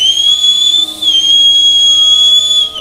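A person whistles one loud, sustained, piercing note that dips briefly and then holds again, clear and close with no talk over it.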